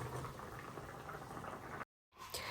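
A pot of radish, potato and gourd shoots boils with salt and green chilli, giving a faint, steady bubbling simmer that cuts out briefly near the end before returning.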